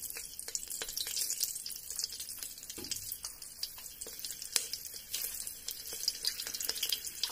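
A green chili dropped into hot, smoking oil gives a steady close sizzle with crackling pops scattered throughout.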